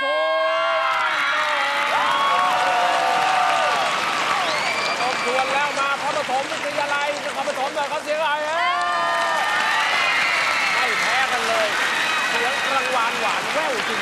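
A school cheering squad from Phanom Thuan Chanupatham School in Kanchanaburi roars and applauds. Many young voices shout, whoop and clap in a loud, continuous burst, with a voice talking over the crowd.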